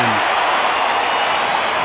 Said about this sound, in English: Loud cheer again from the capacity crowd of the Wanderers.